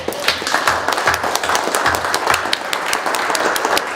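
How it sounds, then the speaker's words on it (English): A conference audience standing and applauding, dense clapping from many hands, close and loud, steady for several seconds. "give Lindsay Lizer a round of applause"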